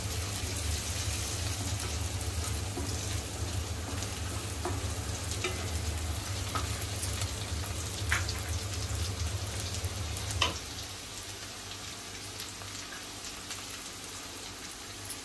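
Green chillies frying with cooked onion in a pan for a dry shrimp dish, a steady close hiss of sizzling oil with occasional scrape and stir clicks, easing off quieter toward the end.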